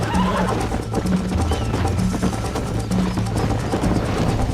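A horse in the Western video game Red Dead Redemption neighs repeatedly over a dense mix of game ambience and hoof clatter.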